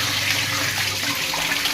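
Water gushing forcefully from a newly fitted water tap, a loud, dense, continuous rushing hiss close by.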